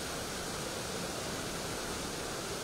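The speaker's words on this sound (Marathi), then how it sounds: "नाशिकच्या गंगापूर धरणातून पुन्हा एकदा पाण्याचा विसर्ग वाढवण्यात आलेला आहे" Water pours out of Gangapur dam in Nashik with a constant, close, full-bodied rushing roar that never lets up over the short stretch.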